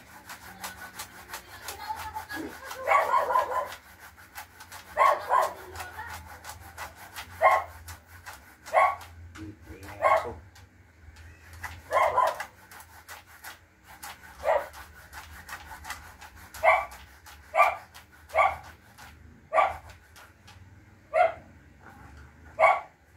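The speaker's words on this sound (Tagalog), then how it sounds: "Ingay yung aso." A dog barks repeatedly in a steady series of sharp yaps, mid-distance, over a quiet rubbing background with no talk.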